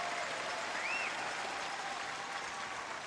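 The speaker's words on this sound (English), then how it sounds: "To a great applause from the crowd." Applause from the crowd at a curling championship, Scotland versus Canada at the world men's event, rolls on as a steady wash of clapping in a large arena, moderately loud and unbroken, with a faint whistle near the start.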